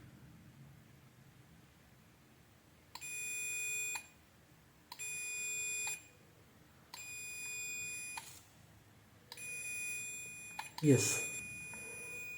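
A multimeter gives steady continuity beeps, four sustained tones of about a second each at a regular pace, while a room heater fan's thermostat is slowly turned. A sharp click follows the beeps, and someone talks over the sound.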